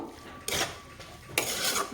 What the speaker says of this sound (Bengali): ডালিয়াটার সাথে আমি সবজিটাকে ভালোভাবে একটু নেড়ে চেড়ে ভাজা ভাজা করে নিব